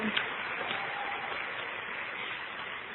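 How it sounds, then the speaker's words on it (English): Audience at a Founders Day celebration in Akron, Ohio applauding the women on stage, a dense, steady wash of clapping heard from within the hall that holds evenly for several seconds. "Can you give these ladies a round of applause?"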